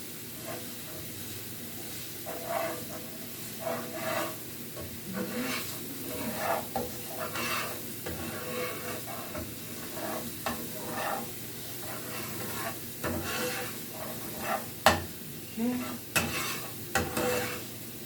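Big chunks of garlic frying in a pan for a homemade fettuccine dinner, a steady soft sizzle with intermittent stirring scrapes and clicks, close and moderately quiet, with no talking.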